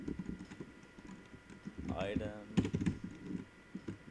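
Typing on a computer keyboard, with quick irregular clicks of keys alongside someone talking quietly in a room.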